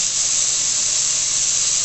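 Jerk chicken set on an oiled grill gives a loud, even sizzling hiss that holds steady through the whole short stretch, close up, with no talking.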